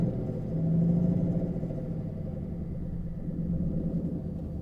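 A donk car's engine idles in a low, steady rumble that swells slightly and then settles, with no voices.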